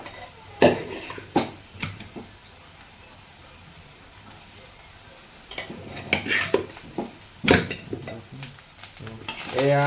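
Boiled rice stirred in a frying pan with soy sauce, with bursts of scraping spatula strokes against the pan over a faint sizzle and a quiet pause in between.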